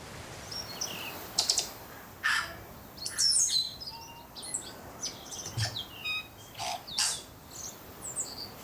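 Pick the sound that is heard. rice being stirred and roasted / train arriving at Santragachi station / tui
tui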